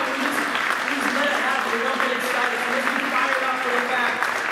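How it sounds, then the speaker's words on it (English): A church congregation stands and applauds, a sustained, even roar of clapping from a large crowd mixed with cheering voices, loud and continuous throughout. "let's stand up and clap for those people right now"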